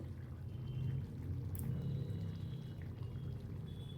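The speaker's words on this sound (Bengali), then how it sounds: "ঝোল ফুটে আসছে" A pot of goat meat and potato curry in thin gravy comes to a boil, giving a steady low bubbling and simmering that runs on without pause and without talk.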